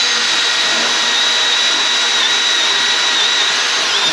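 Milwaukee and DeWalt cordless drills, 3.0 compact batteries, racing to bore through material: a steady, loud high-pitched motor whine and grinding hold for the full length without pause, with no talk over it.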